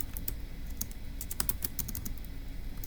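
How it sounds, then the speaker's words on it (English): Rapid keystrokes on a computer keyboard in an uneven run of clicky taps, close and fairly quiet, with no voices. "I'm going to go ahead and type deduce"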